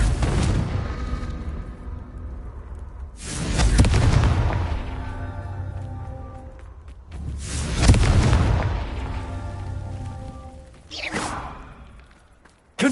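Three heavy booming explosions from the Confringo blasting spell in Hogwarts Legacy, each a loud low blast that decays slowly over several seconds, spaced roughly four seconds apart.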